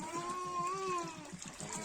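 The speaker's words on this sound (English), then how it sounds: "I'm going to add in our water." Water is poured into a cooking pot over a fire while malewa is prepared in an African village: a quiet, steady stream of about two seconds with a faint ringing tone as the pot fills.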